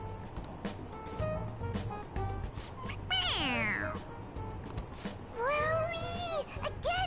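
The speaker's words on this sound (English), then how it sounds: "It meows when you press on its head." Toy cat from the game Persona 5 Royal gives two bright, rising-and-falling meows when pressed on the head, the second longer and louder, over soft game background sounds.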